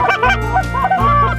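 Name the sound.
geese honking over a frozen pond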